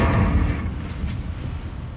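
Incendio fire spell cast in the Hogwarts Legacy video game: a loud, close fiery burst with a heavy booming onset that fades into a low rumbling roar, with no talking.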